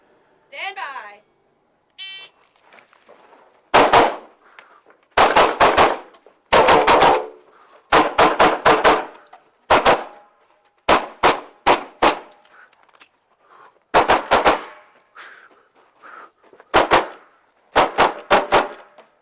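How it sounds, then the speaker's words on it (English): A start buzzer sounds, then pistol gunfire rings out at an IPSC shooting stage in the 2005 Area 2 match. Loud, close shots come in rapid pairs and short strings with brief pauses between target arrays. "All right, let's go shoot this stage."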